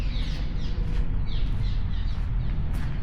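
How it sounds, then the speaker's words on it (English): Mud birds calling beneath an I-15 highway tunnel, repeated short chirps and squeaks over a steady low rumble of traffic and echoing ambience. "out pestering the mud birds. You can probably hear them there."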